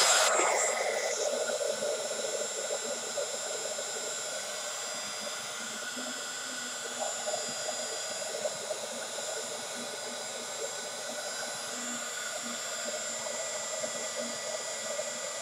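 A hair dryer blows steadily and close on a paper craft envelope mini album, a continuous loud whooshing hum with a sharp start at the beginning and no talking.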